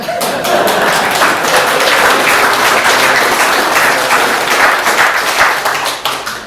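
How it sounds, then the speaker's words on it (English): Audience applause at a book launch, a full, steady round of clapping from a room of people that holds for several seconds before thinning out at the end. "You can clap if you like."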